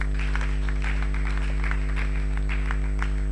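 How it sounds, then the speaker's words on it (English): Clapping from a forum audience under a constant, strong electrical hum, a loose patter of hands with individual claps popping through, moderately loud and steady across the short stretch. "I think we should give her another round of applause."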